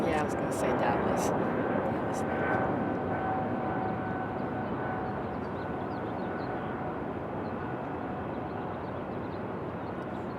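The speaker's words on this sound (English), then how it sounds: "Got an American 737." An American Airlines Boeing 737 jet produces a sustained broad roar with a faint whine, loudest early and easing slightly as it goes, with people chatting quietly underneath.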